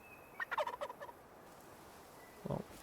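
Wild turkeys gobbling in a hunting video game, a quick rattling burst of gobbles followed by a single shorter gobble a couple of seconds later, faint and somewhat distant against a quiet background.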